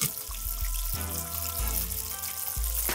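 Jack fish nuggets deep-frying in hot oil, a steady close-up crackle and hiss of bubbling with no talking, punctuated by low thumps and occasional louder pops over the full few seconds.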